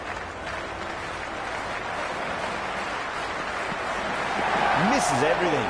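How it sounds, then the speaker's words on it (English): A cricket crowd roars steadily before the first ball is bowled, a dense wash of cheering and chatter that swells slightly toward the end, with a nearer voice rising briefly over it. "The crowd are making a heck of a lot of noise even before the first ball's been bowled."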